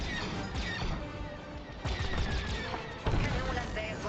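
Rapid laser cannon blasts from a starfighter battle in Star Wars Squadrons on Xbox One X crackle in bursts of sharp shots and impacts, loud and layered with explosive crashes.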